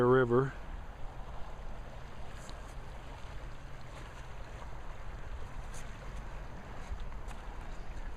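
The Bear River flowing in thin mountain air, a soft, steady wash of running water heard from nearby, with a brief voice right at the start.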